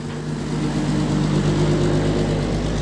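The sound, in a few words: loud running vehicle engine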